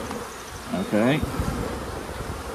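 Honeybees buzz in a brief swell as a hive frame is shaken during a swarm-control inspection, a short close burst over steady hum while a voice speaks briefly.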